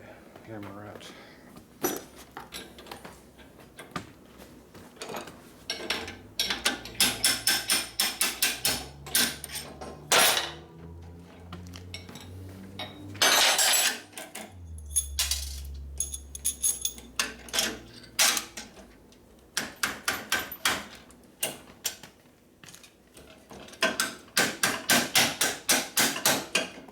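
Repeated sharp metallic hammer blows in irregular bursts during a 1972 Harley-Davidson 1000cc Ironhead Sportster rebuild, some rapid strings of strikes, with someone talking and a low hum in between.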